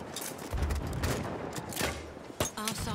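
Gunfire in Battlefield 1, a faint rattle of distant bursts and scattered single shots through a match, with one sharper crack near the end.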